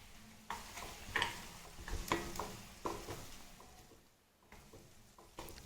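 Paneer butter masala ingredients are stirred in a pan with a spoon, quiet clinks and scrapes every second or so over a faint, low sizzle.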